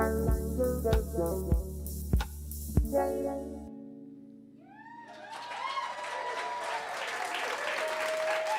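Audience applause after a live music performance at a Charlotte's Web-inspired concert evening, following the last struck chords and building into sustained clapping from a moderately sized crowd.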